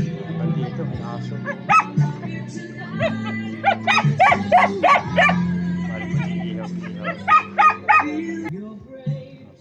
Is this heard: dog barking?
yes